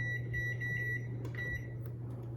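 An electronic kitchen timer beeps in two long, high-pitched tones over a low background hum.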